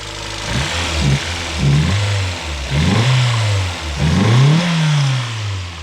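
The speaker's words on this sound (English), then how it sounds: "Lifter tick is really loud." A $100 Mazda Miata engine overdue for an oil change runs close and loud, revving up and settling back in four rising-and-falling surges, with a loud lifter tick described.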